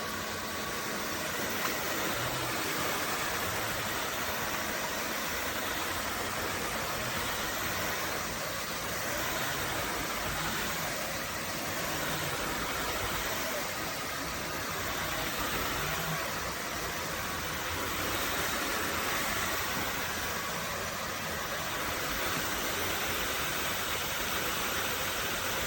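A Narwal S20 Pro cordless vacuum mop runs in turbo mode, a steady loud whooshing motor drone with a high whine, continuous and close throughout.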